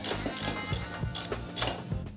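A ratchet wrench clicks in quick, close bursts while tightening the retaining bolts on a motorcycle brake caliper, with short pauses between strokes.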